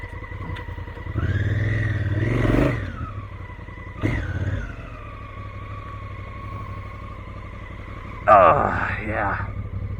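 A Honda CRF1000L adventure motorcycle revving hard through sand and mud, with two surging throttle bursts and a later rev, the engine idling steadily in between while a rider talks over it.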